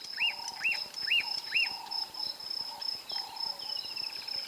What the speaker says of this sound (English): So this is a beautiful bird that has a lot of clicks.